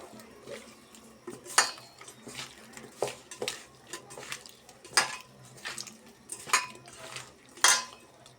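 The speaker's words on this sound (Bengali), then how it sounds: "এখন মাছটাকে মেখে নেব ভালোভাবে" Fish is mixed with turmeric powder in a bowl, with soft scraping and a series of sharp, clinking knocks against the dish at irregular intervals, close and fairly quiet.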